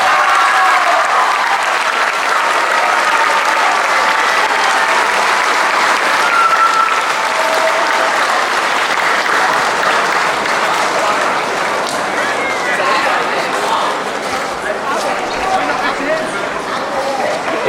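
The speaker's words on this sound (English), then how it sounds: "can we just give another round of applause for Mr. Will?" A school audience at an honoring ceremony gives a sustained round of applause, dense loud clapping with crowd noise that continues steadily for the whole stretch.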